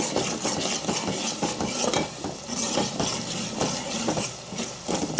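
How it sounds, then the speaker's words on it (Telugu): Tomato rasam being stirred with chili powder and salt, a spoon working steadily through the liquid in a pot with repeated soft scrapes and clinks over a continuous background hum. "ఒకసారి అంతా కలిసేలాగా మిక్స్ చేసుకోవాలి"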